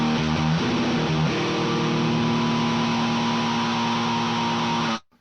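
Distorted electric guitar riff through a blend leaning toward the 51 Filthy pedal path alongside an HM-2 pedal, giving a dense, buzzing Swedish death metal tone with chugging chord changes that cuts off sharply at the end, loud and alone.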